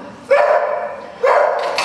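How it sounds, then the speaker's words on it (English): A dog at a beekeeping talk gives two loud, close barks about a second apart, each a sharp onset followed by a sustained yelping tone, with a brief third sound starting at the end. "She's probably the best known dog in beekeeping."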